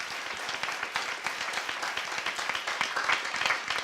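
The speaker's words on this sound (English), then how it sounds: "Let's give the panel one more round of applause." Audience applause for a discussion panel, dense and close with many hands clapping at a steady, even intensity from start to finish, with no voices standing out.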